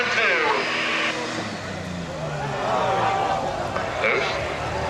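A super stock diesel pulling tractor roars under load at a National Tractor Pullers Association (NTPA) Grand National event in Fort Recovery. The engine drones steadily with pitch sweeps while an announcer talks over it.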